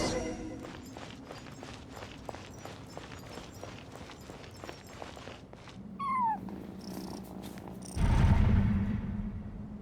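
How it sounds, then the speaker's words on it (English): A cat cries in Genshin Impact during a ruins exploration event: one brief, rising-and-falling meow partway through. It sits over steady rhythmic footsteps and game ambience, with a louder low rumble near the end. "And so, I followed the cat's cries to find my way out."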